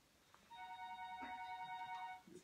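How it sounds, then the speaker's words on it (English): A telephone ringtone sounds once as a steady electronic tone lasting nearly two seconds, fairly faint and distant in a quiet room. "Whose phone is that?"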